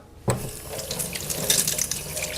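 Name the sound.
rinsing hand under sink tap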